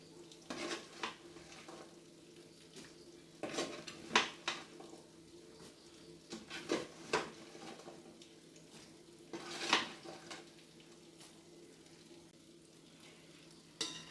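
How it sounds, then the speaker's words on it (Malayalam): Fried fish pieces being stirred into a pan of fish pickle, with intermittent scraping strokes of a spoon against the pan over a soft, steady sizzle, moderately close and fairly quiet, no voices. "എന്നിട്ട് നല്ലതുപോലെ അങ്ങോട്ട് ഇളക്കി കൊടുക്കുക"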